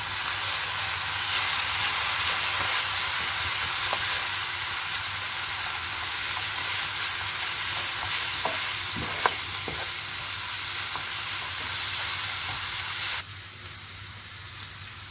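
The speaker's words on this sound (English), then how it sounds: "Now I add butter" Butter sizzles in a pan for a broad bean pilaf, a loud, continuous hissing fry with bubbling crackle, softening near the end to a quieter sizzle.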